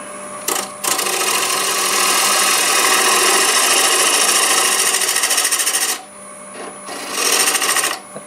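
A 1/2-inch bowl gouge cuts wet cherry wood spinning on a lathe, giving a loud, steady hissing scrape for several seconds, then a brief pause and another short cutting pass.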